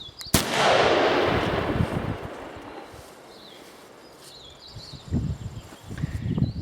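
A single sharp rifle shot fires a 250 grain Hornady bullet through a T4 Terminator muzzle brake. The loud close crack booms and rolls away into a long decaying echo, followed by faint rustling outdoors.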